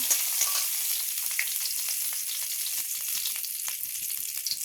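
Dried red chillies and bay leaves fry in hot oil, producing a close, continuous sizzle with scattered sharp pops and crackles, no talking.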